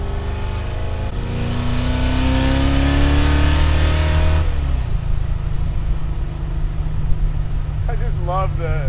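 A 1966 Shelby GT350 replica's engine revs up and holds a high drone, then drops back to a rough idle; a voice speaks briefly near the end.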